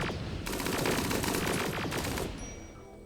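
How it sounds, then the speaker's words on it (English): Rapid bursts of gunfire between colonists in the Rimworld video game, a dense continuous rattle of overlapping shots that holds loud for most of the stretch before tapering off near the end, with no one talking. "Now you're shooting each other"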